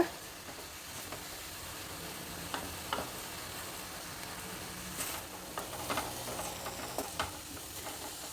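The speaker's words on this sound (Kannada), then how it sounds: "ಸ್ವಲ್ಪ ಎಣ್ಣೆಯಲ್ಲಿ ಮೆಂತ್ಯ ಸೊಪ್ಪನ್ನು ಬಾಡಿಸ್ಬೇಕು ಹೈ ಫ್ಲೇಮಲ್ಲೇ ಇಟ್ಕೊಂಡಿದ್ದೀನಿ" Fenugreek leaves fry in a little oil over a high flame, giving a soft, steady sizzle with occasional light clicks of a spoon stirring the pan.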